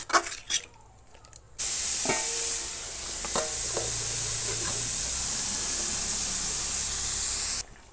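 Water poured into a hot pan of jackfruit sets off a loud, steady sizzle and hiss that fills the room, with scraping stirring clinks at the start and near the end.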